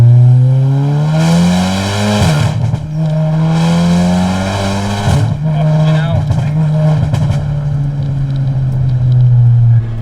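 A loud 500 bhp Volkswagen Golf R engine roars and revs continuously, pitch rising and falling as it accelerates and shifts, with occasional tire noise.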